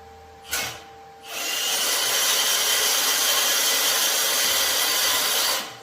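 A portable band saw cutting through metal, starting after a brief click and then running as a loud, continuous, even whine and rasp for several seconds before stopping.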